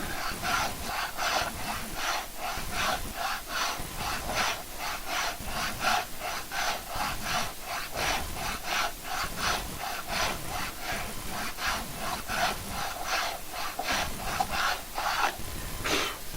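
A rasp files wood to smooth off rough, sharp bits, with steady back-and-forth scraping strokes in a constant, even rhythm, close and clear throughout with no talk.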